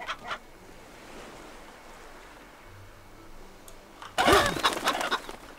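A chicken in the video game Fable Anniversary squawks and flaps in a sudden loud burst near the end, after a quiet stretch with faint distant ambience and a brief earlier cluck.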